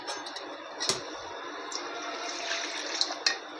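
Water poured into flour in a bowl for mango modak dough: a soft, quiet trickle with a few small clinks, and no talking.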